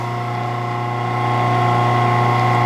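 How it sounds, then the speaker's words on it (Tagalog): Steady humming drone of a three-phase electric motor wired to a push-button and indicator lamp on a single-phase supply, growing slightly louder partway through, with no talking. "gumana din ang 3-phase motor natin"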